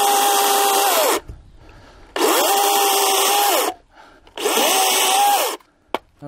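A DeWALT FLEXVOLT cordless chainsaw revs in three sustained bursts of about a second and a half each, separated by near-silent pauses, with a steady whining motor tone that stays fairly even and unaggressive; no voices are heard.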